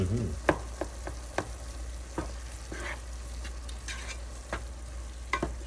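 Marinating drunken noodle ingredients are stirred around a hot pan with a steady sizzle, while a spatula scrapes and taps at irregular intervals close by.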